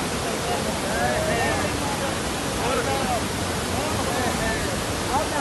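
Rushing floodwater of a swollen river current in Haridwar roars as a dense, continuous wash of noise, loud and unbroken, with no clear voices above it.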